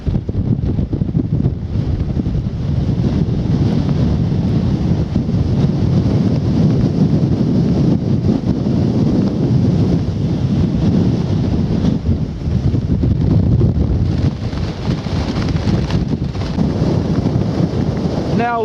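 Wind buffeting a microphone on a coastal walk through a nature reserve near Snettisham, a steady broadband rumble lasting throughout with slight gusty swells and no voices.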